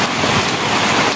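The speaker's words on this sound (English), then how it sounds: "there's just some sense of serenity and peace watching the rains" Heavy rain pours steadily in Matunda, a dense, continuous broadband hiss of drops on surfaces close by, with no gaps and no voices.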